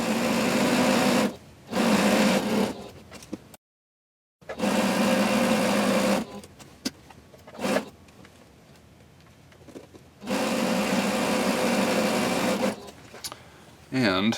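A sewing machine stitching across the top of a welt pocket runs in loud, steady whirring bursts, broken by brief stops and quieter gaps as the fabric is turned.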